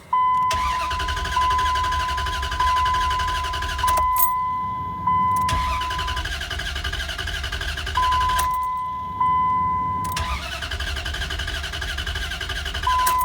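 A 2004 Dodge Ram 1500 with a 4.7L Magnum V8, fuel system depressurized and not starting: three long starter-cranking bursts of about four seconds each, separated by short pauses, with a steady warning chime running alongside.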